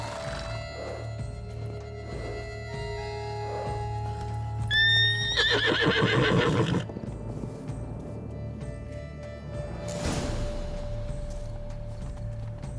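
A horse in The Witcher 3: Blood and Wine whinnies loudly in one drawn-out neigh, with clip-clopping hooves and steady game ambience and music around it.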